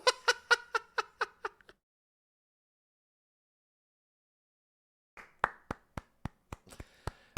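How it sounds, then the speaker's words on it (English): Two short bursts of hand clapping separated by a long silence: about seven quick claps, then after a pause another run of sharp, close claps. "I applaud."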